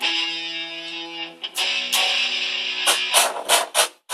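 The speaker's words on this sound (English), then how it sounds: "So now I've got a sound I'm more happy with for a lead sound" A bright, buzzy synthesizer lead holds a sustained tone, then plays several short punchy notes with brief gaps toward the end.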